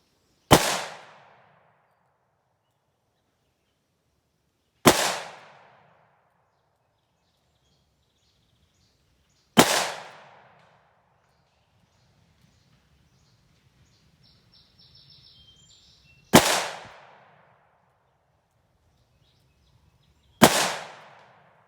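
Five sharp, loud gunshots from a Ruger LCR .327 Federal revolver fired double action outdoors, spaced several seconds apart, each a crisp crack with a short decaying tail, quiet between shots apart from faint distant birds.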